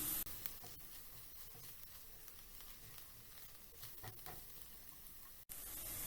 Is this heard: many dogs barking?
no